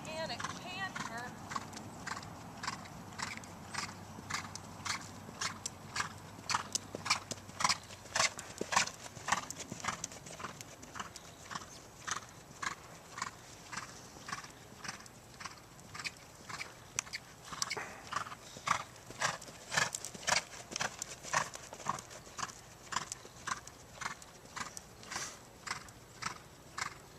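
A horse canters in an arena, hooves thudding in a fast, steady rolling rhythm that stays fairly close throughout, with a voice talking over parts of it.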